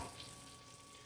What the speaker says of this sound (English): you can hear that frying, can't you?